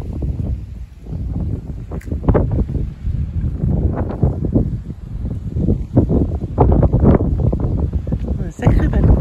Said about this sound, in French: Désolée si tu entends le vent